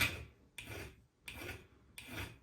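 A hand file rasps across a cast gold ring in four even back-and-forth strokes, each a close, scratchy rub followed by a short pause, with no voices.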